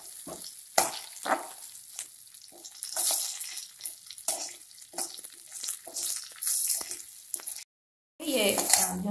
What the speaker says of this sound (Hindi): तो हम अच्छी तरह से ब्राउन होने तक सिवई भून लेंगे।